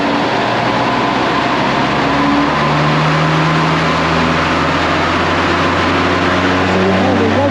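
A Land Rover Defender Td5 diesel with a GTB450 turbo upgrade pulls at full throttle on the road, a loud, steady low engine drone with rising tonal whine heard from inside the cabin.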